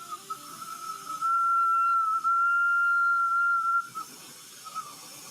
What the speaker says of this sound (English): Yeah, a little whistle.